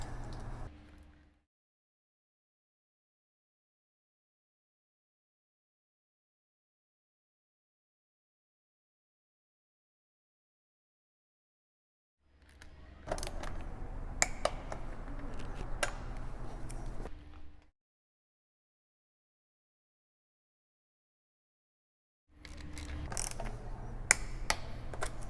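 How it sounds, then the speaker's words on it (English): A torque wrench set to 10 newton meters tightening the headlight guard bolts on an SRC CRF 300L motorcycle, with two close bursts of ratcheting and mechanical clicking, each a few seconds long, separated by long silence. "torque wrench, 10 Newton meters already set. Give these guys a click."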